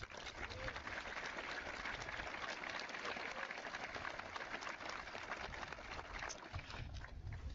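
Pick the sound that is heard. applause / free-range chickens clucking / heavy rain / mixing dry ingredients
applause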